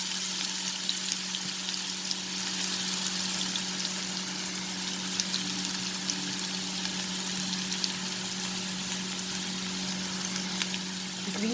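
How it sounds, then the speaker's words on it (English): Sliced onions frying in a tablespoon of hot oil give a steady, dense sizzle that holds evenly from start to finish, close and fairly loud, with a low hum beneath. "Now I have heated 1 tablespoon of oil, and I'm going to add the onions, sliced onions, chopped onions in this."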